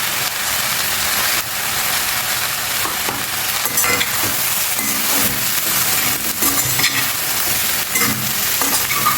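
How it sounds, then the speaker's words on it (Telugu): Vegetables with sesame seeds, salt and chilli flakes stir-fry in a pan, giving a loud, steady sizzle with scraping and clattering stirring throughout, no voices. "అవన్నీ లైట్గా వేగాలి అంతే, ఎక్కువ వేగకూడదు వెజిటబుల్స్ అన్నీ."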